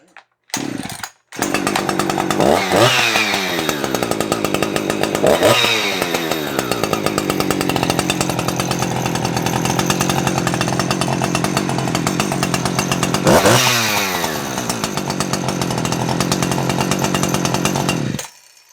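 A Husqvarna 359 or 357 chainsaw with a freshly cleaned-up cylinder runs loud and close, holding a steady high idle with three sharp revving bursts before cutting off near the end.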